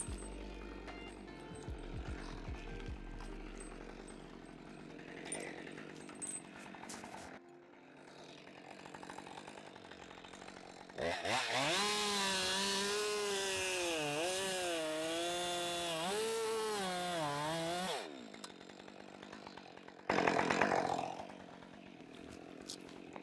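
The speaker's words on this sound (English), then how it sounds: "I'm going to push the saw all the way through in one go and then toss it off after the fact" A chainsaw cuts straight through a vertical tree spar during arborist spar removal, its engine rising from idle into a sustained loud whine that labours and wavers under load for several seconds, then drops back to idle.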